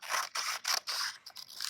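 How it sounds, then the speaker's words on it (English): Scissors cut and trim paper for a sketchbook, giving several quick, close, crisp snipping and slicing strokes in an uneven rhythm, with no voices. "if you want to take your scissors and trim it up a"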